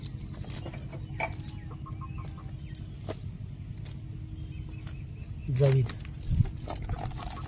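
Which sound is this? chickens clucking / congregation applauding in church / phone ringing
chickens clucking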